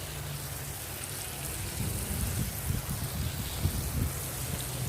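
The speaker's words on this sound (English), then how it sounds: "I'm going to water this in" Rainwater from a rain barrel pours onto a freshly filled raised garden bed, a steady soft splashing wash with low gurgling spatter that grows slightly fuller partway through.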